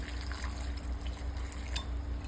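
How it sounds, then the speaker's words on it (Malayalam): Water is poured into a pot of peas along with crushed ginger, salt and pepper, a steady close trickle and splash that continues for a couple of seconds with no talk. "ആവശ്യത്തിന് വെള്ളവും കൂടി ഒഴിച്ച്"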